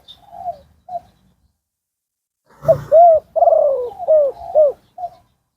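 Soft pigeon coos come in a few short phrases, with a brief pause followed by a quicker series of rounded, throaty calls, fairly close.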